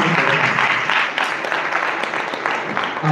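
A church congregation claps loudly and continuously in a dense, close wash of applause, with voices faintly mixed in.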